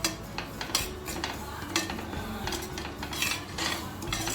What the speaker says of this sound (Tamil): நல்லா கைவிடாமல் நல்லா வறுத்துக்கோங்க.